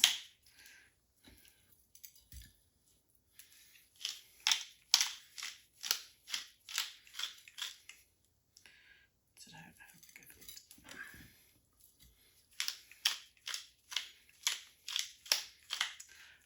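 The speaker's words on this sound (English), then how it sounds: "we're going to go in with a little cracked pepper" A pepper grinder cracks black pepper over steaks in a steady run of crisp, rhythmic grinding bursts, paused midway and then resumed in a quick regular sequence, close and quiet with no one talking.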